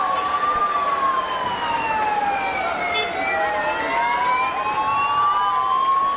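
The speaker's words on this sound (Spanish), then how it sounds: "Las sirenas de la policía anunciando la llegada de las carrozas." Police sirens wail in slow rising and falling sweeps as they lead the floats of the 2023 Three Kings parade in Vigo. The sound is steady and fairly prominent over a faint crowd murmur.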